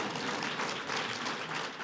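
Audience applause at a small business policy event, steady broadband clapping from a crowd sustained for about two seconds, fairly close and continuous.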